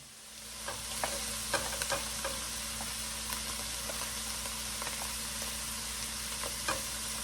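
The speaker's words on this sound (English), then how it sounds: "just mix this all up and saute this just a little bit" Jalapeño and red bell pepper sautéing for chili on a stovetop, a steady close sizzle with scattered crackles and occasional stirring clicks, no talk.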